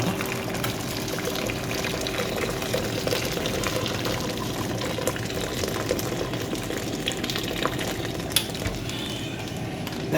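Boiling water is poured from a kettle into a pan that holds a little oil, making a steady rushing pour with faint sizzling that continues evenly throughout.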